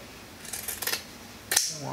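Scissors cut material for a Camaro knee pad, with a few quick crisp snips followed by one sharper, louder cut, recorded close up in a quiet room.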